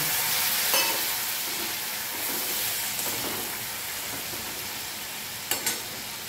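Water poured into browned onion, ginger and garlic frying for an egg curry, a loud steady hissing sizzle up close with a couple of light utensil knocks, no voices.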